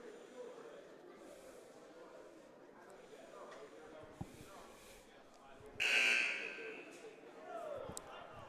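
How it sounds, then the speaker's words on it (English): A single loud electronic buzzer at a high school JV boys basketball game, Mediapolis vs West Burlington, sounds in the gym for about half a second, rising over steady crowd murmur and talk. "First buzzer."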